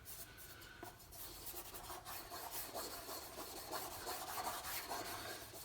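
A cloth rubs a hazy car headlight by hand with Mothers aluminum wheel polish, a quiet, continuous scrubbing with rhythmic back-and-forth strokes, heard close and alone.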